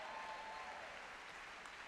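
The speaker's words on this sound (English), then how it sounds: "give them a rousing round of applause" Steady applause from a crowd, a continuous even wash of clapping that holds at the same level throughout, fairly soft and a little distant.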